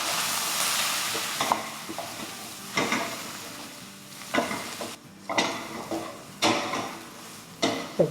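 A spoon mixes salt, red chilli powder and lemon juice into a dish in a pan in a series of short scraping strokes, spaced about a second apart, close and fairly quiet, with no talking.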